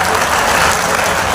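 Audience applause at a comedy poetry show, a dense, loud burst of clapping from a crowd that fills the whole short moment without a break.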